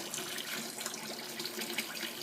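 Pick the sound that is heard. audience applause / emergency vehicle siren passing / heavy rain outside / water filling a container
water filling a container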